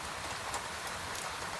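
Gentle rain falling at night, a soft, even hiss of drops on surfaces with faint scattered patters, quiet and steady with no voices.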